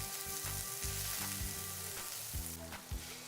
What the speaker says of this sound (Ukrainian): Смажимо до появи золотавої скоринки.